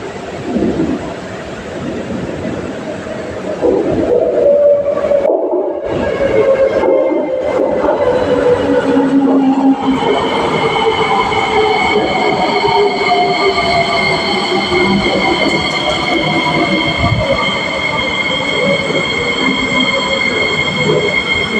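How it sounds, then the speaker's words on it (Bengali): A Singapore MRT train pulls into Gul Circle station. Loud, continuous rail rumble carries high, drawn-out wheel squeals and tonal braking whines that build and hold as the train arrives close by. "ট্রেন আসতেছে, ওই যে দেখা যাচ্ছে"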